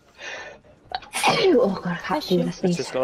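A single sneeze bursts out near the start, followed by people chatting casually in the room.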